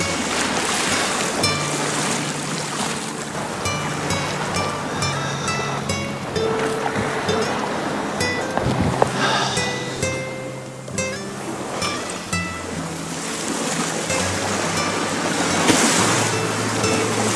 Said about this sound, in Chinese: 我想听笨港的海浪声，所以就回来了